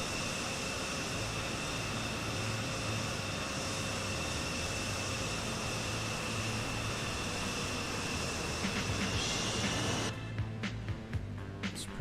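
Steady roar of an F-14 jet engine in Microsoft Flight Simulator 2020, a constant broadband whine with tonal hum that holds level for about ten seconds before cutting to a thinner, choppier tail; no one talks.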